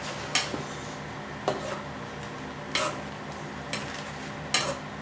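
A pot of beef innards stew is stirred with a utensil. About five distinct metallic scrapes and clanks land at irregular intervals over a low simmering background, close and clear, with no talking.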